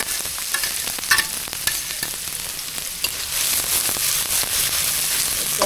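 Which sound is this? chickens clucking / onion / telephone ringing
onion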